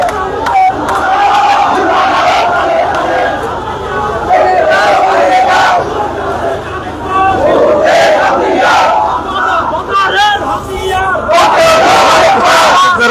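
Large crowd of students at a Gaza protest in Tangail chanting slogans in loud, continuous unison, with rhythmic bursts of shouting and cheering rising and falling throughout.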